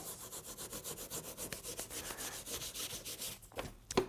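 Cast iron being rubbed down with antique improver, a steady back-and-forth scrubbing with rhythmic strokes close up, ending in a few sharper scuffs and knocks.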